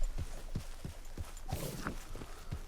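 A horse's hooves clip-clop at a steady walking rhythm in Red Dead Redemption 2, about eight close, distinct strikes over a faint ambient bed.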